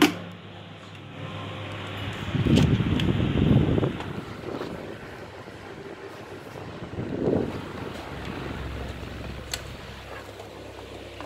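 A Status 12-inch desk fan set to high with wave oscillation gives a steady broadband whoosh of moving air, with soft swelling gusts as the head sweeps past, alone and fairly close.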